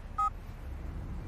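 A mobile phone is dialed in a movie scene, giving one short, clear keypad tone over a low background hum.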